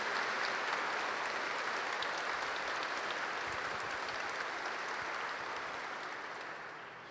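A church congregation applauds together during a Catholic prayer gathering, a dense, steady wash of many hands clapping that holds evenly for several seconds and then begins to taper off.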